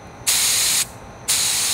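A hand spray gun filled with water sprays in two loud, hissing bursts, the first about half a second long and the second starting after a brief pause, close up with no talking.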